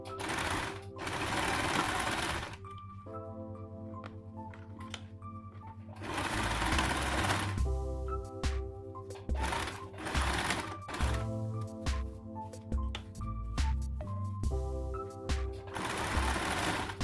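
A sewing machine stitches a cloth face mask in loud, rapid mechanical bursts of a few seconds each, separated by quieter pauses where the motor hums at rest before the needle runs again.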